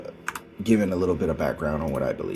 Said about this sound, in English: if you hear a bunch of clicking and noises in the background, it's me playing the game. I'm on my computer.